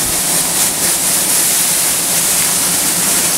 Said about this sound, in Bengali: সাকশন পাওয়ারটা দেখেন কত হাই সাকশন